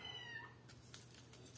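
A small kitten meows in a short, faint high cry, followed by a few softer squeaks over a low background hum.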